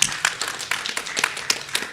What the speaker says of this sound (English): round of applause for Marie